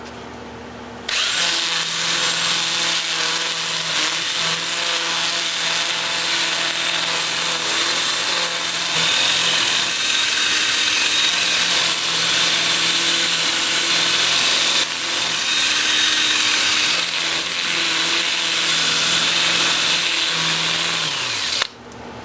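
A 2-inch power sanding disc works a mesquite bowl spinning in reverse on a wood lathe at about 370 RPM, a steady loud whirring grind that runs unbroken for about twenty seconds with no talk.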